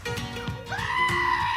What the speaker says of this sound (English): And there's your screaming goat for the day.